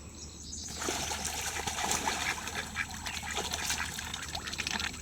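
Ducks quacking at close range, a small backyard flock of three mallards, two cayugas and a white pekin, with busy overlapping calls over a steady trickle of water and no talking.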